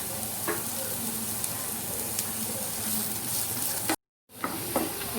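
Chopped large onion frying in hot oil, a steady close sizzle with occasional stirring clicks, briefly cut to silence near the end before the sizzling resumes.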